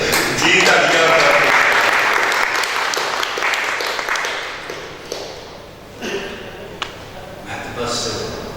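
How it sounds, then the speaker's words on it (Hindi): Applause from a seated audience at a book launch in a literary gathering at Alhamra, loud and dense at first, then thinning into scattered claps while a person speaks over the fading sound. "तालियां"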